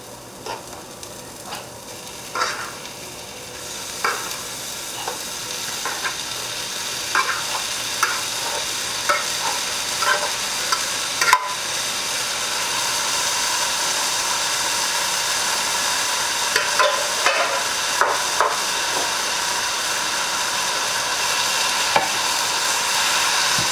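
Steady sizzle of food frying in a pan before spaghetti squash is added, with periodic scraping and stirring clicks over a continuous hiss that grows slightly louder.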